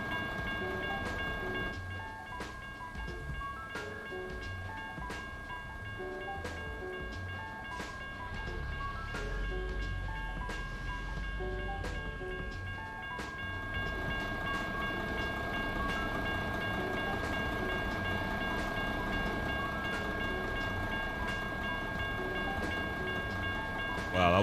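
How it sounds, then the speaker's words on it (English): A slow-moving train rail car rolls past in the video game American Truck Simulator, a steady low rumble with sustained tonal hum layered over it, continuous for the whole stretch without talk. "Wow, that was the slowest rail car I've ever seen"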